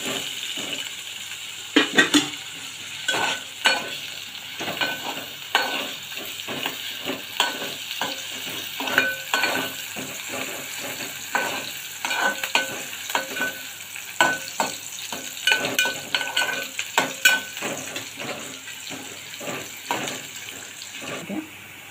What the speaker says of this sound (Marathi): बरोबर कढीपत्ता पण टाकून देऊया। परतून घेऊया।